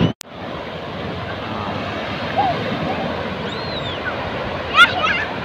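Ocean surf at Sine beach in Tulungagung makes a steady, broad wash that fills the clip. There are faint scattered sounds over it and one short louder burst near the end.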